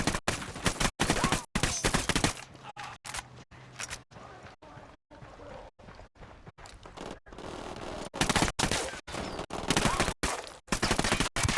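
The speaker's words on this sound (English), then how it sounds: "Opening fire." Rapid bursts of gunfire in the video game Ghost Recon Wildlands, loud sharp volleys that crack out repeatedly, ease into scattered shots mid-way, then surge back into dense firing.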